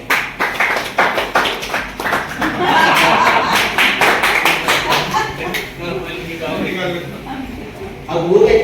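An audience claps hands at a business presentation, bursts of rhythmic applause coming and going between stretches of someone talking over a microphone, with a few scattered chuckles.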